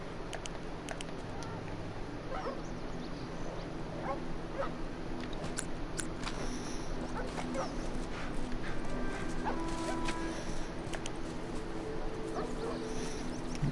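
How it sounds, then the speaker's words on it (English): Dogs barking, yipping and whimpering in the video game The Last of Us, faint and intermittent over a steady background hum. "Can we avoid these puppy dogs?"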